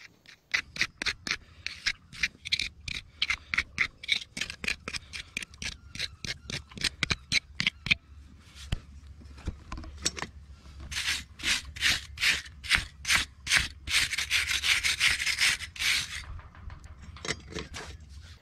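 A hand tool scrapes dirt from a horse's brittle, cracked hoof in rapid, rhythmic rasping strokes, close and crisp, with brief pauses between runs of scraping.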